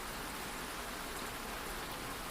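Rain falls in a steady, even hiss of dense drops, soft and continuous with no pauses or other sounds.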